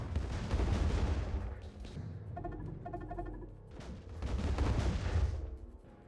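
Planetary bombardment in the space strategy game Distant Worlds 2, heard as heavy rumbling booms and explosions in two loud swelling waves with rapid crackling impacts between them, dense and close, with no talking.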